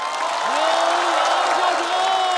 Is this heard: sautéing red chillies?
no